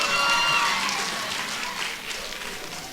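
Applause from an audience at a community call event, moderately loud and steady. The clapping tapers gradually over a few seconds, and a voice can be heard faintly over it.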